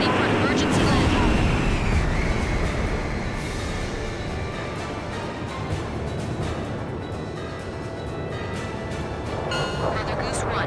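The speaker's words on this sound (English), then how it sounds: "The transport plane is ready for an emergency landing." A transport plane makes an emergency landing in the combat flight game Ace Combat 5, a loud, steady broadband roar of engines and airframe running throughout, with voices over it.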